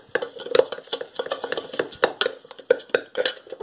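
A spoon stirs a mixture of marjoram herb and apple cider vinegar, giving a run of close, irregular metallic scrapes and clinks against a small container, with no talk over them.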